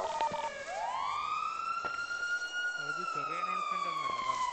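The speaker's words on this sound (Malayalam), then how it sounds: "ഞാൻ സൈറൺ ഓഫ് ചെയ്ത് വരാം" A police car siren in the video game GTA 5 wails in a rising and sustained electronic tone, heard close and steady, with brief lower chirps and faint game sounds beneath.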